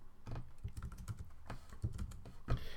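Rapid keystrokes on a computer keyboard, a close, continuous run of clicky taps at an uneven typing rhythm, with no talk over them.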